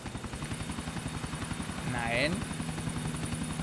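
A helicopter in GTA 4 thumps with a rapid, even rotor beat, loud and close, while someone briefly speaks over it.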